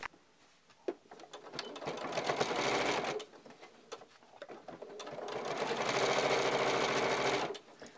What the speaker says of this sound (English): I'm just going to start and sew very close to the edge on the fold, across the pleats, back, and then across the other pleats